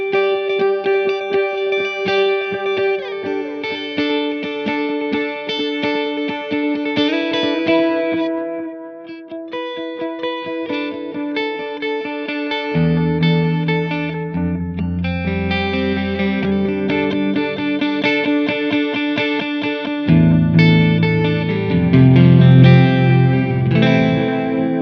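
Electric guitar played through a Way Huge Echo-Puss analog delay pedal with chorus modulation, sustained chords and notes trailing dark repeating echoes, a lower bass-register passage entering midway, loud and continuous with no talking.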